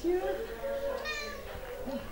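Kittens and cats at a cat rescue association meowing repeatedly in short high calls, close by, with a soft room background and no clear talk.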